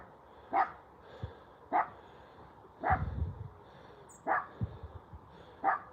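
A dog barks to warn off other dogs, five single barks spaced about a second apart at moderate distance, with faint rustling between them.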